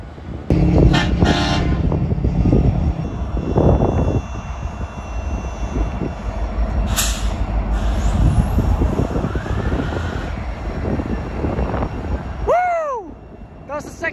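A second-unit diesel locomotive engine cranks and rumbles to life, a loud steady roar with clanking, followed by a rising whine near the end.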